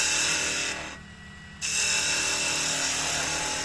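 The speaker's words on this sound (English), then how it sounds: "So now we can use our our spindle gouge to radius it in now." Spindle gouge cutting a radius into wood spinning on a lathe: a continuous, loud, high-pitched cutting whine with a brief drop in the middle as the tool lifts off, then cutting resumes, close up with no talk.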